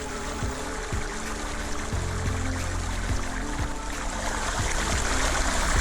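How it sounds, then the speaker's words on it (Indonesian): Water gurgles and trickles at Karmon waterfall in Biak, a continuous close babble of flowing stream with small splashes and bubbling pops, no voices present. "Saya disambut lembutnya suara gemericik air dan dinginnya udara di sekitar air terjun Karmon"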